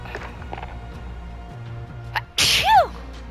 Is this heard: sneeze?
yes